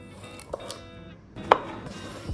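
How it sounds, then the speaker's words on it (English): A knife chops shallots on a board in two or three distinct, fairly close strikes, the second one sharp and loud, over quiet kitchen background with no speech. "finally chop about 1 cup of shallots"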